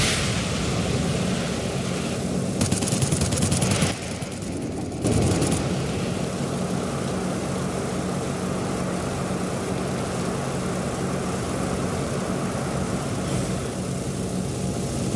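Propeller warplanes drone continuously in the World of Warplanes game, a dense, steady engine roar of several aircraft with brief surges and no talk.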